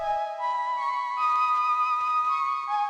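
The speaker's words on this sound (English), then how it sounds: "So the flute does, it sounds like this." A soft flute-like melodic line plays a few sustained, breathy notes in an instrumental, clear and moderately quiet with no other instruments or voices.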